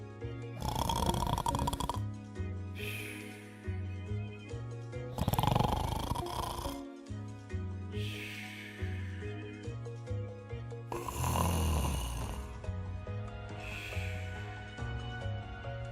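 The Gruffalo snores during a children's story reading, with loud, rhythmic rasping snores repeating one after another, likely a reader's voice imitating them, over soft background music.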